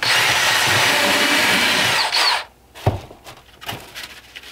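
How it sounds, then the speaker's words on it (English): Die grinder whirring loudly as it cuts holes into a foam demon skull prop, then stopping, followed by scattered handling knocks and scrapes. "I went ahead and just die grinded out 2 big holes in his head"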